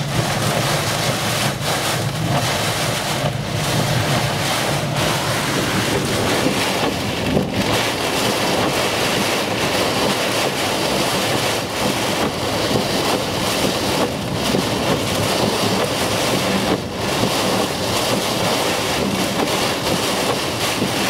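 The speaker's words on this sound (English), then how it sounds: "Stupid weather app saying 21 miles an hour wind. It's way more than that." Strong storm wind and heavy rain, a loud continuous roar with gusts, broadband hiss and buffeting at the microphone, lasting the whole time with no voices.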